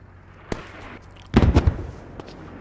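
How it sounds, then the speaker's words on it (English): Frag rocket explosions in the video game Squad land as a faint distant pop followed by a louder cluster of deep, rumbling blasts, then a final small thump. "More frag rockets coming in."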